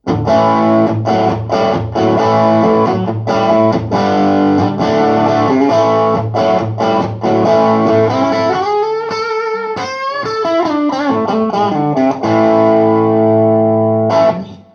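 Electric guitar played through a Strymon EL34 tube amp emulation, loud and sustained with overdriven chords, then a bending, warbling lead phrase in the middle, ringing chords returning to close, alone without talk.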